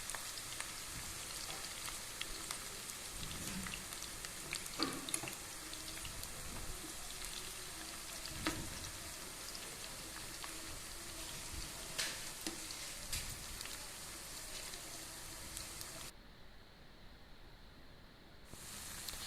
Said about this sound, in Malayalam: കോളിഫ്ലവർ എല്ലാം ഇട്ടതിന് ശേഷം ഒരു സൈഡ് ഫ്രൈ ആവുന്നത് വരെ നമുക്കൊന്ന് വെയിറ്റ് ചെയ്യാം.